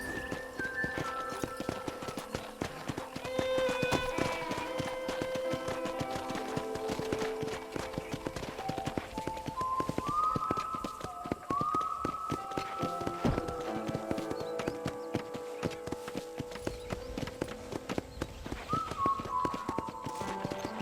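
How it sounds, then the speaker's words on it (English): Horse hooves clip-clop at a steady riding pace on a ranch in the Red Dead Redemption video game, the rhythmic beats running continuously beneath a layer of game music. "let's see if you can still ride a horse"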